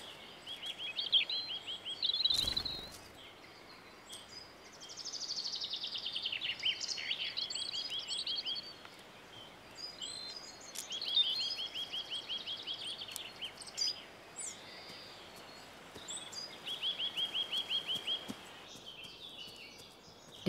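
Spring birdsong outdoors: several faint, high warbling phrases recur every few seconds over a quiet background, with no voices.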